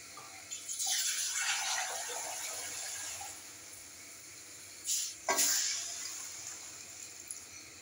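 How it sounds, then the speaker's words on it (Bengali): Water splashes into a pot of chicken keema ghugni, a loud pour at first that eases into a steady trickle, followed by a second sharp splash and pour a few seconds later. "এবার আমি দিয়ে দিচ্ছি জল।"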